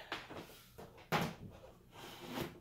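A cardboard box holding a HUINA 1570 RC excavator is ripped open, with rustling and scraping cardboard and a sharp tearing thump partway through, close and fairly faint with no speech.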